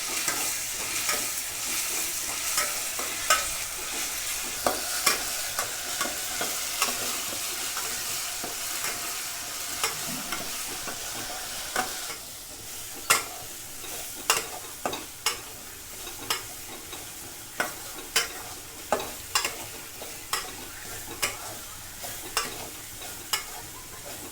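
Mutton masala being stirred in a pan with a soft, continuous sizzle and a steady run of sharp scraping clicks from the spoon, growing more frequent in the second half, close and moderately loud with no talk.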